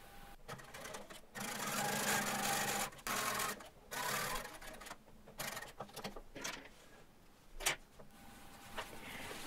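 A sewing machine stitching jeans in bursts of steady whirring, a long run followed by shorter stop-start passes, close and fairly loud with clicks between runs.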